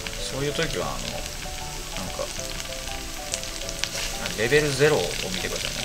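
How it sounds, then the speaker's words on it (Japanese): Mushrooms frying in a pan give a steady, close sizzle that runs throughout, while someone talks over it. "じゃあキノコをね炒めていきます。"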